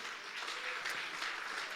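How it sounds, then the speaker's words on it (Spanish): A church congregation applauds, a soft, distant, steady patter of many hands clapping for a short stretch. "Alguien da un aplauso al Señor."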